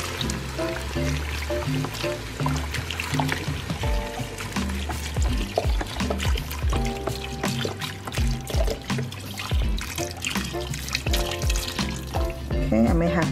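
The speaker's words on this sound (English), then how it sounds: "and now I'm going to add my chicken broth." Chicken broth pours into a soup pot holding potatoes with a steady close trickle and splash that lasts throughout, mixed with clinks and some faint background voices.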